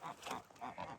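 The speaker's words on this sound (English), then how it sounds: "Oh, this is our geese family." A family of geese, two ganders among them, honks in a short burst of close, nasal calls, several honks overlapping in quick succession.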